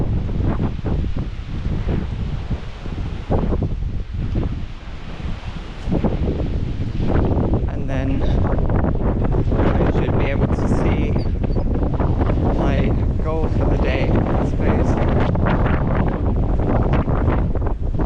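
Strong wind buffets the microphone on the exposed headland at Trevose Head, a steady loud roar and rumble with gusty rustling and distant surf beneath, continuous throughout.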